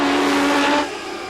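Can-Am midget race cars flash past a lapped car on the dirt Capital City Speedway heading into turn one, a loud high-pitched engine whine that drops in pitch as they go by.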